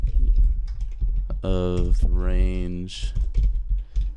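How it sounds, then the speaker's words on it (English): Rapid typing on a computer keyboard, a dense run of quick, close key clicks alongside someone talking. "I'm typing really fast and making a lot of typos"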